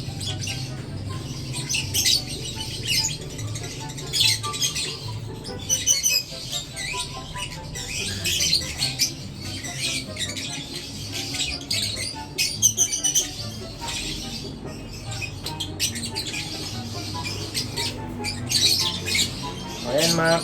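African lovebirds squawk and chirp repeatedly in sharp, irregular bursts at moderate loudness, heard close by over a low background hum.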